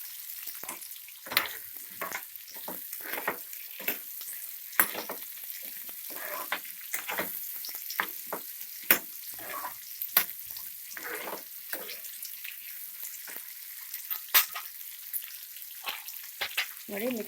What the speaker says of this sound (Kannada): ಸ್ಟಾರ್ ಫ್ರೂಟ್ ಹಾಕ್ಕೊಳ್ಳಿ. ಚೆನ್ನಾಗಿ ಮಿಕ್ಸ್ ಮಾಡ್ಕೊಳ್ಳಿ.